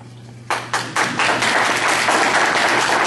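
Audience applause at a candidates forum, starting with a few scattered claps and swelling within a second into sustained, dense clapping from a crowd that carries on to the end.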